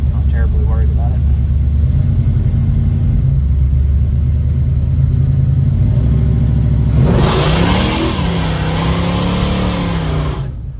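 A big block Chevrolet El Camino's V8 rumbles loud and close at steady revs, then surges into a harder rev with rising whine near the end.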